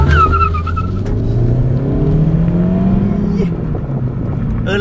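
Car with a new aftermarket exhaust revving outdoors, a loud, rough low engine roar that rises and falls across the clip with raspy exhaust texture, close by and continuous.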